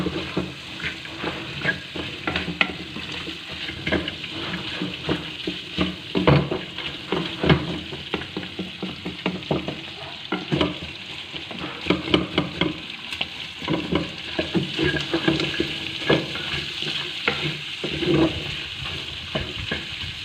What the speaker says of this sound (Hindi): इसको थोड़ी देर भून लेंगे।